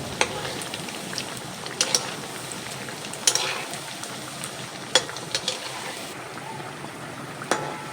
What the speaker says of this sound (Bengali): এইগুলোকে আমি এবার উল্টিয়ে পাল্টিয়ে ভেজে নেব।